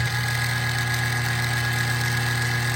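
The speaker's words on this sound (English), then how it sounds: "it's a simple drive motor with a chain" A kitchen trash compactor's chain drive motor runs with a steady, even mechanical hum and a constant droning tone, heard up close and alone.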